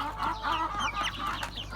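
Türken, Ameraucana and village chicks give a quick run of soft clucks and chirps, several overlapping calls close by over under two seconds, over a low steady background hum.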